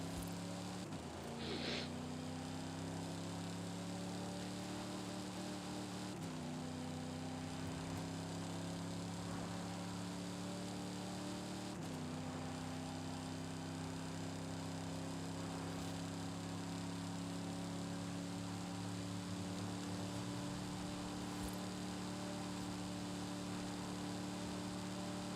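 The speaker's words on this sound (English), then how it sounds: "listen to that engine" A video game vehicle engine hums in a steady, tonal drone, faint but constant, with a few abrupt shifts in pitch as it revs and settles, running on alone without speech.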